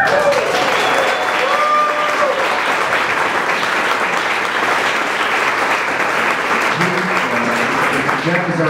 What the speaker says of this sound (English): each person deserves a round of applause